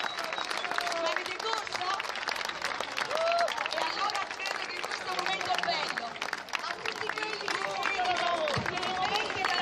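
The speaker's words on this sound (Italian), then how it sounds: "Gli applausi non li sento!" Audience of teachers at a training course applauding together, a dense, loud wash of clapping mixed with crowd noise and scattered voices throughout.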